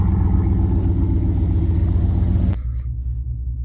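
A pickup truck engine idles while warming up after sitting unused for a while, a loud, steady low rumble close by that abruptly drops to a quieter, thinner idle partway through.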